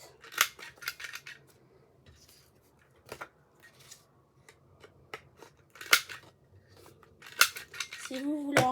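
Scissors cut paper while making a simple Christmas album craft, a series of short crisp snips spaced irregularly, close and fairly quiet, with faint talk in the background.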